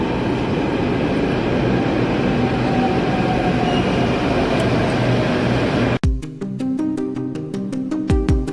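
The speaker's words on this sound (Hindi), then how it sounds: "पहुंच गए वैशाली मेट्रो स्टेशन" Loud rumble of a train moving through Vaishali metro station in Delhi, steady and roaring, then cutting abruptly to a different busy scene with rhythmic percussive beats.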